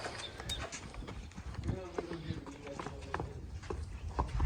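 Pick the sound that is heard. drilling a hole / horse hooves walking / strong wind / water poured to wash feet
horse hooves walking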